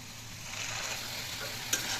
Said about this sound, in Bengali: আলুটা আমি অলরেডি 8-9 মিনিট ধরে ভাজছি আর একটু সেদ্ধ হয়ে গেছে